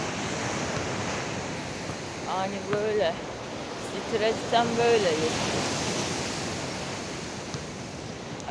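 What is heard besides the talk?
sea waves crashing on the shore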